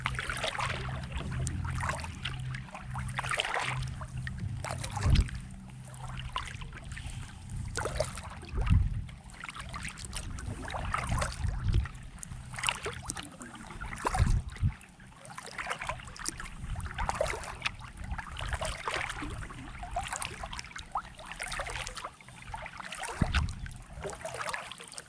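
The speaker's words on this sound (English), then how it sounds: "We'll just have a little paddle along the shoreline" A kayak paddles along a cove shoreline at Graves Run, with steady rhythmic paddle strokes and water splashes and trickles repeating every few seconds, close and moderately quiet, no voices.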